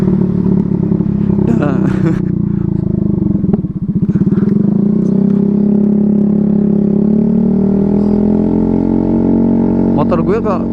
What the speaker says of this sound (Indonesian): Dan kali ini kita nyoba knalpot racing ini cuy